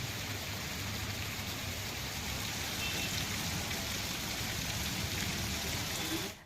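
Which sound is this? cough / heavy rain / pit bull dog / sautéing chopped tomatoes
heavy rain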